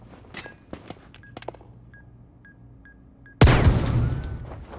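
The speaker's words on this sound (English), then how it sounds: "Pull the pin. Let's get a grenade." A grenade goes off in the VR shooter Zero Caliber, landing as one sudden loud blast with a rumbling tail after a quiet stretch of faint clicks and a few small beeps.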